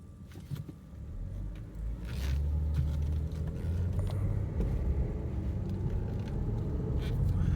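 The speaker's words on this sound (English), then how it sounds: "car coming." A car engine rumbles steadily and grows louder as a vehicle approaches, with a low continuous road noise throughout.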